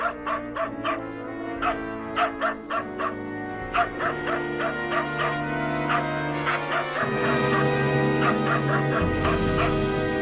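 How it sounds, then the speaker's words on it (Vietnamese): A fierce dog at a Buddhist temple barks repeatedly in sharp, rhythmic bursts, loud and close. Background music plays steadily underneath. "Khiếp quá, con chó này hung dữ thật."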